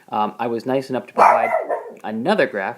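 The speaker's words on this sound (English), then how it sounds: "That's my dog." A pet dog barks in a quick run of sharp barks in the background while someone speaks in a teaching tone over them.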